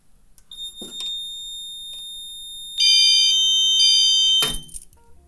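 A fire alarm pulled during a walk test sounds with a steady high-pitched electronic tone, first alone, then louder and layered with a second pitch, before a sharp clatter cuts it off.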